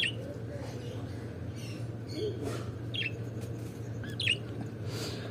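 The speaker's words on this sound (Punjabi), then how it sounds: "ਨੀਲਾ ਕਬੂਤਰ ਹੈ ਜੀ, ਨੀਲਾ।" A blue pigeon calls with short squawks and chirps over a constant low hum, several brief calls scattered through the stretch at moderate loudness.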